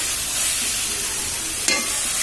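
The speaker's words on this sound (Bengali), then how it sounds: "ভালো করে এটা ভেজে নেব মশলাটা।" Spice paste for a kochu pata prawn dish fried and stirred in a pan, with steady close sizzling and a brief louder scrape of the spoon near the end, no talk.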